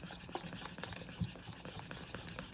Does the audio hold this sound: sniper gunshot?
no